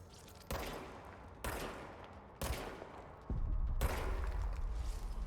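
Gunfire in the action game Control: four sharp, loud bursts at roughly one-second intervals, the last breaking into a sustained rattling volley, with no talking.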